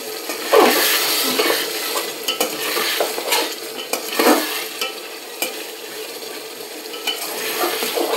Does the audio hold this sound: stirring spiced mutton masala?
yes